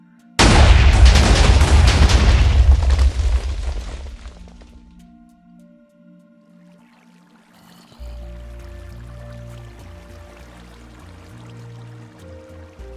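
Massive TNT cannon blast in a video game, a loud, sudden wide explosion roaring for several seconds, then fading to quiet before low game music tones return.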